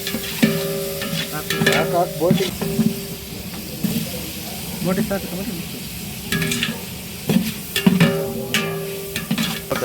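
Chicken pieces coated in ginger garlic paste sizzle loudly in a hot pan while being stirred, with repeated scraping and clattering strokes over a constant frying hiss and a faint voice now and then.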